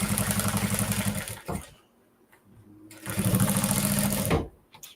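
Sewing machine stitching a large project holder: two fast, rattling bursts of stitching separated by a short quiet pause, close and clear.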